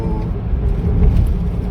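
An Alto K10 car cruising on a highway between Bangalore and Bihar, giving a close, steady interior drone of engine and road noise with a low rumble that swells slightly midway.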